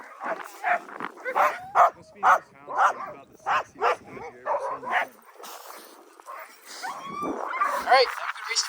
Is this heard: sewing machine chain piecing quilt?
no